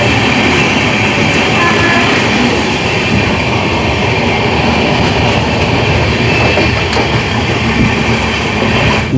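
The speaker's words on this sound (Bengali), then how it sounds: "ট্রেন মোটামুটি 100-র ওপরে স্পিডে ছুটে কিন্তু টিটাগড় স্টেশন পার করছে এখন বর্তমানে।" Radhikapur Express running above 100 km/h through Titagarh station, a loud continuous roar of wheels and wind with steady rail clatter and faint occasional squeals, sustained without a break.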